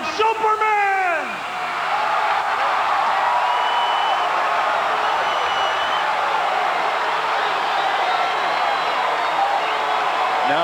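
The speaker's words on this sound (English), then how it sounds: "Now I'd say that he was getting a standing ovation" A large crowd roars steadily with cheering and applause at the 1991 Chicago Bulls championship celebration, a sustained wash of noise that barely dips, with a voice heard briefly at the start.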